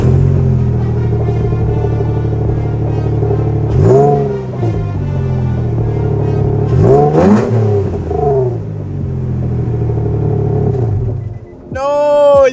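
A brand-new sports car's engine idles with a steady low hum, then revs sharply twice in rising-and-falling bursts, with a final quick rev at the end.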